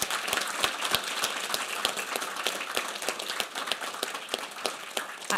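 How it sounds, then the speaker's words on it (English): A modest round of audience applause at a session of the Commission on the Status of Women, honoring a volunteer helper, with distinct individual claps audible through a thin, steady patter. "So if we could give her a round of applause."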